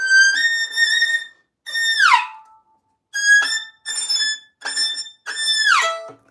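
A high, clear whistled melody opening a song, with sustained notes and falling glides in several short phrases separated by brief pauses, loud and alone.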